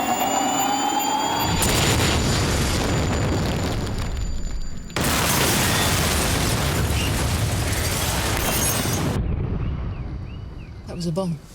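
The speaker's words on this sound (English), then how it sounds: "That was a bomb." Powerful bomb blast in a tense drama scene, a huge roaring boom that fills the space and rolls on for several seconds, with a second surge of blast noise before it cuts away.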